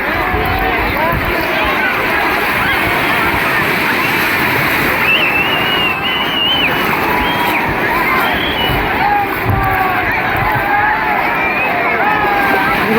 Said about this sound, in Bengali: আসছে বড় ঢেউ।